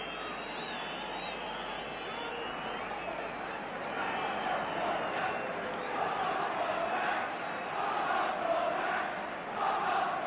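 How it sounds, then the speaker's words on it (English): A football crowd at a 1975 league match roars and jeers at the referee, a steady broad swell of voices filling the ground from start to finish, with a commentator talking over the din. "the target of continued booing from the far side, and indeed from all round this ground"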